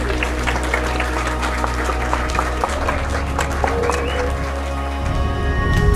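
Wedding guests give the couple a round of applause after their vows, a steady patter of hand claps from a small gathering with a low rumble underneath.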